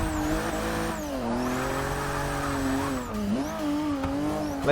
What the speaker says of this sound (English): when you get going on a straight, you just hear the air being sucked into the engine